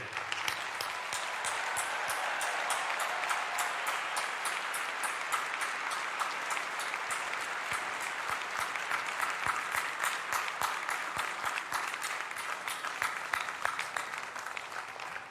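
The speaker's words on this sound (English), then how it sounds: "Please join me in a round of applause for these dedicated Carolina employees." A large crowd at the UNC-Chapel Hill commencement ceremony for the class of 2024 applauds steadily for about fifteen seconds. The applause is a broad, even wash heard from a distance and stays at a constant level, with no speech.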